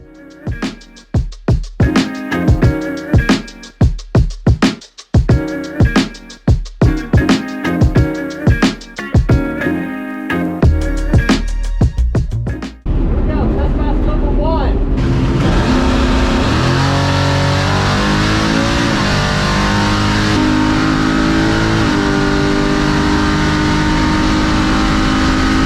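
A 700HP Chevrolet C10 drag race truck warming up at a drag strip, loud and close: a series of sharp blips and revs first, then a sustained roaring, rising high-rev engine run.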